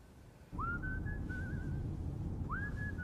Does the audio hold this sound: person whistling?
yes